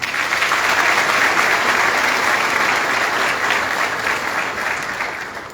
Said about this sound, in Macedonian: Те молам за аплауз.